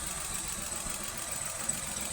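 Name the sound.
car engine idling with ignition coil connector pulled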